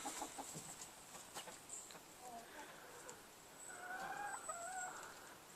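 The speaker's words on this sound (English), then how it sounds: "They have one rooster." A single rooster clucks in an orchard, giving short cackling calls scattered across a moderately quiet outdoor background, with brief faint voices now and then.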